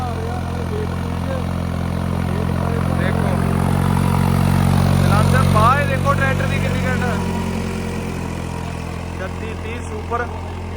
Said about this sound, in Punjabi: 50 HP ਦਾ ਟਰੈਕਟਰ ਵਧੀਆ ਜ਼ੋਰ ਮਾਰ ਰਿਹਾ ਬਹੁਤ ਵਧੀਆ 4 ਵੀਲ ਡਰਾਈਵ ਦੇ ਵਿੱਚ ਕੰਮ ਕਰ ਰਿਹਾ ਹੈ